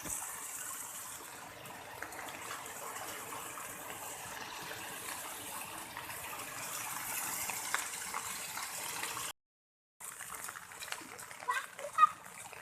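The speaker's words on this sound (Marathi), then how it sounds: "हे बघा पाणी इथपर्यंत आलेलं आहे वरती पाण्याचा फोर्स देखील खूप आहे" Water gushes steadily and forcefully, a continuous rushing roar close by, with a brief silent gap near the end before splashing resumes.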